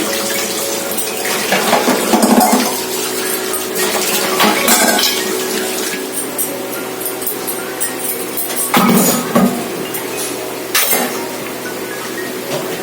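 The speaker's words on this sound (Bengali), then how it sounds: "ডালিয়াটা ওইদিকে হচ্ছে আর এগুলো বাসন ধুয়ে নিচ্ছি" Dishes and pots are washed under a running kitchen tap, a continuous loud splash of water with intermittent clinks and knocks of metal utensils being handled and rinsed.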